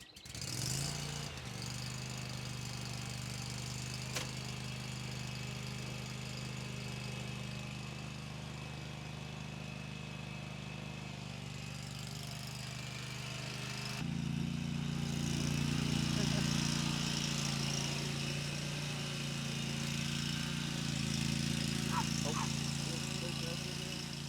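A riding lawn mower tractor engine runs steadily and close, with a constant droning hum that grows louder partway through as the throttle rises.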